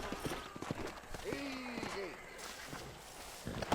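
Horse hooves clip-clop at a walk in Red Dead Redemption, a light, fairly close rhythmic patter mixed with game sounds and music.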